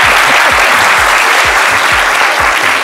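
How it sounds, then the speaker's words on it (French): A studio audience claps loudly and continuously on a French-language TV midday show, a dense, sustained wash of hands with no voices over it. "C'est à applaudir, non, mesdames et messieurs?"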